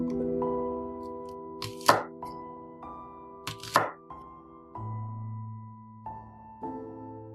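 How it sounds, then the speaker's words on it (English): A knife chops green onions into 1-inch pieces on a cutting board, a few sharp, distinct cuts in two quick pairs and then softer taps, close and clear against a quiet kitchen hum. "Chop the green onions into 1-inch pieces."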